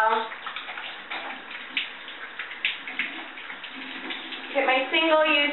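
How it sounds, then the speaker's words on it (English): Hot tap water runs steadily into a sink while soapy hands are rinsed, a continuous close wash of water with a brief child-like voice or squeak near the end. "The water's nice and hot, and then I just rinse the soap off really well."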